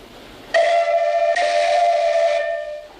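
A single shrill whistle blast in a 1962 adventure film, loud and steady for about two seconds with a brief break, then fading out; no talking over it.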